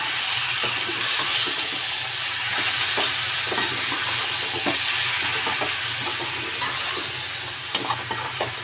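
Raw chicken is mixed by hand with turmeric powder and salt in a bowl, a soft, continuous wet rustling with occasional light clicks, close by and without any speech.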